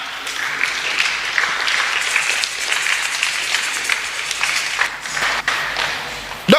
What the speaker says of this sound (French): On acclame, on acclame.